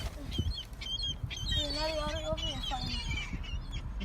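Geese honking repeatedly at close range in an outdoor setting, a steady series of calls layered with background noise and bursts of excited talk from people nearby.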